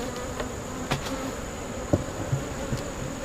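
Honeybees buzzing around a backyard hive during winter preparation, a steady close hum with occasional louder passes of individual bees, and no voices.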